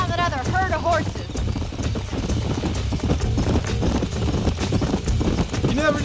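Horse hooves clip-clop steadily in Red Dead Redemption Remastered as a herd is tracked, a continuous rhythmic trotting under game music, with brief whinny-like tones early on.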